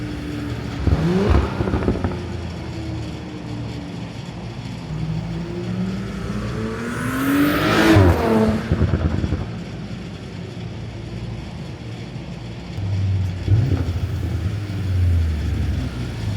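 An Audi SQ5 with an 034 Motorsport front resonator delete drives past, its engine note rising as it approaches, peaking loudly close by, then receding into the distance.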